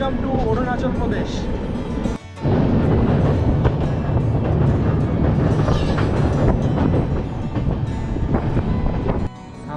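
A train running through Arunachal Pradesh rumbles loudly and continuously from inside the carriage, with heavy wind and rattling noise, a brief dip in level early on, and a voice talking over it.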